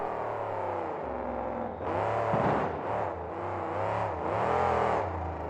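A monster truck engine roars continuously at an arena event in Houston, rising into loud, throaty revs as it launches a jump off the blue lane, with pitch surging and dipping as the throttle is worked.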